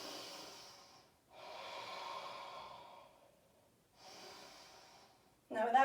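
Slow, deep breaths during a vinyasa yoga class: long airy inhales and exhales in a calm rhythm with quiet gaps between, close and soft, ending in a brief louder burst.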